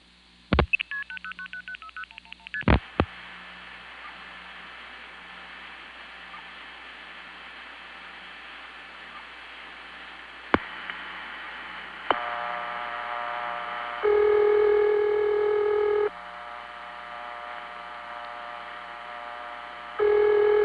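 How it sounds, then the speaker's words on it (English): A telephone exchange ringing machine produces a 'St. Thomas ring' ringback tone on a senderized XY step-by-step line. Clicks and short tones come first, then a hissy line. Later a steady, rich ringback tone sounds in long pulses separated by pauses. "I've always thought of that type of ringing machine as St. Thomas ring"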